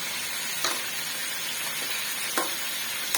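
Ingredients for chicken biryani fry steadily in a pot with a continuous broadband sizzle, broken by two brief louder bursts of stirring or spattering; no talk.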